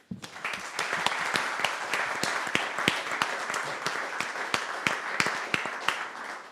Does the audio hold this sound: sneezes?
no